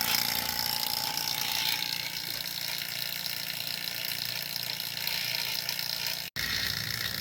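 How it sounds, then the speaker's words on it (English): A small vacuum pump running on a mini split air conditioner, giving a steady, close mechanical drone with a constant hum that continues without a break until a brief cut near the end. "This is what it sounds like with your little machine going,"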